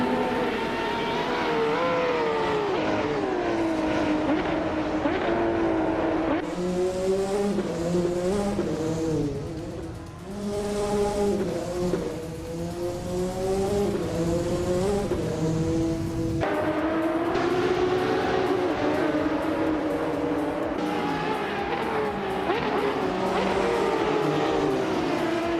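A Mercedes 190E Evo 2 race car in the Retro DTM class screams through its gears, the engine note climbing and dropping in repeated sweeps as it upshifts and brakes, loud and close throughout.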